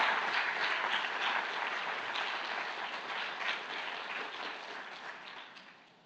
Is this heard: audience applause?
yes